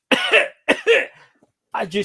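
A person imitates a skeleton's cough with three short, raspy, throaty bursts separated by brief pauses, close and fairly loud.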